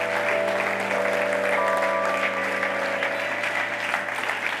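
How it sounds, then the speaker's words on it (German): Audience applause at a German Christian friends' day gathering, steady, dense clapping sustained throughout with a tonal musical drone underneath. "Euer Applaus."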